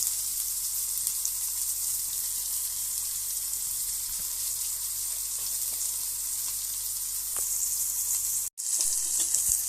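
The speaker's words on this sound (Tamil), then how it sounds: "போட்டு நல்லா வதக்கிடுங்க" Onions sauté in a pan for a white gravy, a continuous hiss of frying that holds steady throughout, with a few faint knocks and one abrupt drop near the end.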